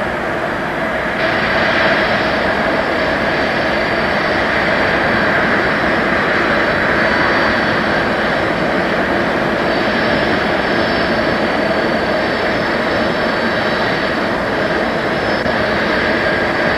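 Boeing 747-100 on its first flight taking off, a loud, continuous jet roar with a steady high whine, constant and unbroken for the whole stretch.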